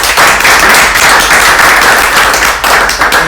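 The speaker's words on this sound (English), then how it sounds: "Another round of applause for them." A room of listeners gives a closing round of applause to a cannabis question-and-answer panel, with dense, steady clapping that stays loud and continuous for the whole stretch and has no talking over it.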